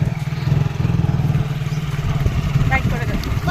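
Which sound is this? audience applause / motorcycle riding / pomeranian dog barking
motorcycle riding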